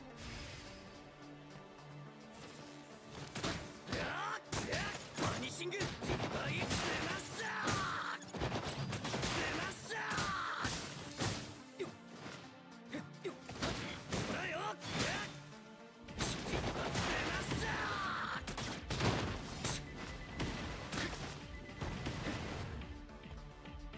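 Enemies exploding in the video game Entropy Effect X, a dense barrage of crashes, whooshes and thuds in rapid bursts across the whole stretch, loud and busy, with speech mixed in at times.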